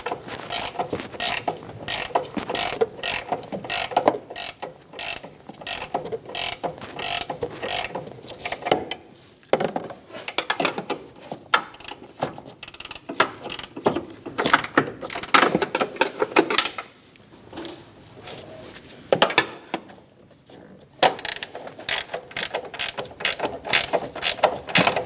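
15mm ratcheting wrench snugging down strut assembly nuts on a 2008-2015 Scion xB, a close, rapid run of pawl clicks lasting many seconds with a few short pauses between strokes.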